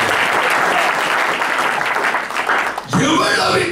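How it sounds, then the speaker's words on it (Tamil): A church congregation claps together during a pastor's sermon, a dense burst of applause that cuts off abruptly near the end, followed by a voice speaking. "ஒரு கைதட்டு கொடுக்கலாம்."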